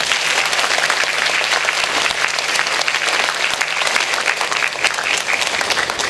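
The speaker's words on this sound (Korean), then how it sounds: "다시 한번 큰 박수 부탁드립니다" Loud, sustained applause from a large lecture audience fills the space, a dense steady clatter of many hands clapping.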